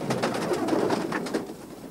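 Wood pigeons kept as decoys for pigeon hunting in the Landes region of France coo in a steady run of soft, rhythmic pulses, close and continuous.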